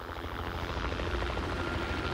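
Helicopter flying over the mountains of Fiordland National Park, New Zealand, a steady low rotor thump and engine drone that holds at even loudness throughout, with no voices.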